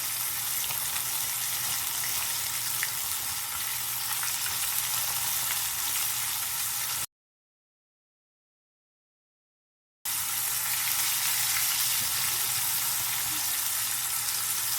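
Deep frying in hot oil gives a steady, dense sizzle. It runs unbroken, cuts to silence for about three seconds, then resumes at the same level. No voices are heard.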